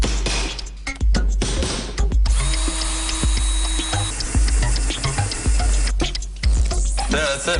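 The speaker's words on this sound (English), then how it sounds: "drill holes in the corks" Power drill boring holes into corks: repeated short whirring bursts and mechanical rattles at close range, separated by brief pauses and handling noise.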